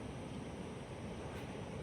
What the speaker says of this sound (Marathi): समुद्राचा किती लाटा आहेत समुद्र एकदम खवळला आहे त्या वादळामुळे